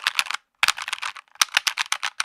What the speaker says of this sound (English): So yeah, mechanical keyboard you need.